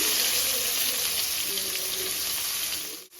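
Bay leaves, black cardamom, cinnamon, green cardamom and cloves fry in hot oil in a pan, giving a close, steady, loud sizzle that carries on without a break and cuts off abruptly at the end.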